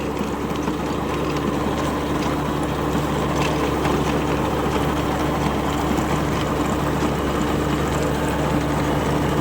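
A Sonalika 47RX tractor plowing a muddy seedbed field, its engine a loud, steady, continuous low drone held close throughout with no change in pitch and no talk.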